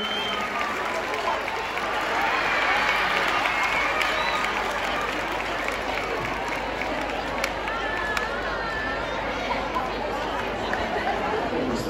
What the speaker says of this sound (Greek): χειροκρότημα εδώ στη φίλη μου